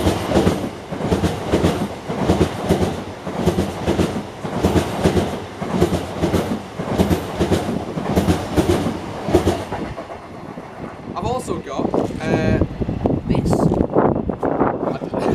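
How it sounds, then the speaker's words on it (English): A train rolls through a station with steady rhythmic clatter that stays loud for about ten seconds, then gives way to brief squeals and softer rumbling noise. "there's a train coming!"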